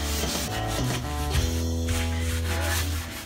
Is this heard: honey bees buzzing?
no